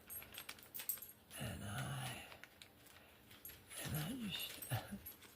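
A 7-year-old dog whimpers indoors, wanting to go outside and run with the other dogs; two bursts of close, wavering whines separated by a pause, with light household rustling and jingling underneath.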